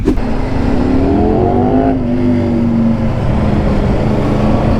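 A Ducati V4 motorcycle engine roars past close by, its pitch sliding downward as it moves away, then a steady fading drone remains.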